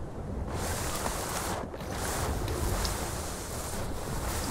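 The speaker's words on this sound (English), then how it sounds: "Down the waterfall I go." In a video game, a waterfall pours out a steady, loud, broad roar of rushing water that fills the whole stretch with no talking.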